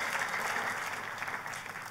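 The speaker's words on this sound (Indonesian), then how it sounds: "Tepuk tangannya oleh yang paling meriah buat Tuhan kita." A church congregation at a Christmas service applauds in a steady, dense wash of clapping that sounds faint and distant, holding evenly throughout.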